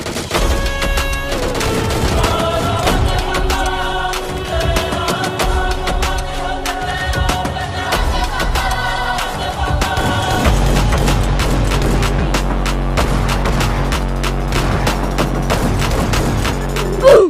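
Gunfire from PUBG Lite, the battle-royale video game, crackles in steady bursts over a dense game soundtrack with sustained tones, continuous and loud throughout.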